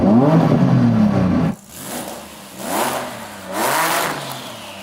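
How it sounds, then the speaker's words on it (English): A Nissan Safari's engine blips in a series of revs: a steady loud drone cuts off sharply, then three rising-and-falling throttle surges follow in a regular rhythm, close by with no talk. "And now Saeed is going to rev up that monster"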